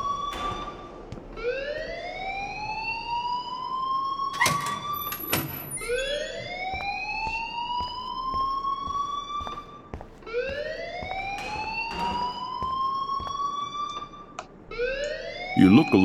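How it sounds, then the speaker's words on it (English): A loud electronic alarm wails in the video game Life is Strange, a repeating rising siren tone that cycles steadily about every four seconds, with short sharp clicks and bangs between sweeps. "please turn off that alarm since that's your job"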